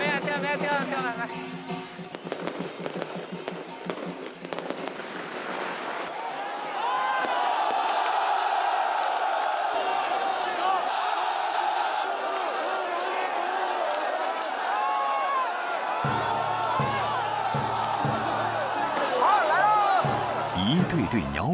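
A dense festival crowd surges and scrambles for bird cakes tossed into the air at a first-lunar-month celebration, a loud sustained roar of voices, shouts and cheers with scattered whoops, rising and falling over several seconds.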